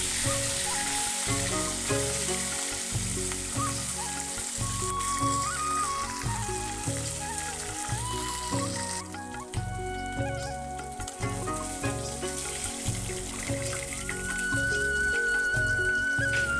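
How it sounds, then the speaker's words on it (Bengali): Katla fish pieces frying in oil, a loud steady sizzle with dense spitting crackles close by, continuous for the whole stretch with no voices. "তো এক এক করে সব মাছগুলো আমি ফ্রাই করে নেব"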